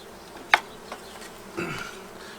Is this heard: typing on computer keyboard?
no